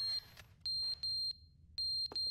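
In the video game The Stanley Parable: Ultra Deluxe, a high electronic alarm gives a few sharp, loud beeps in irregular bursts, separated by short gaps over a low background hum.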